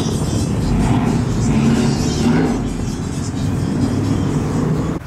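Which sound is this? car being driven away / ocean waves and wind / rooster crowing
car being driven away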